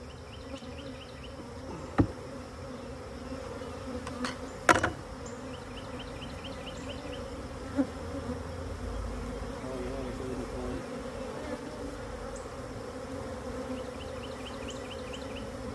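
Honey bees, Russian stock newly installed from packages, buzz steadily around hives in an apiary, a continuous close drone with a few faint clicks and knocks, no talking.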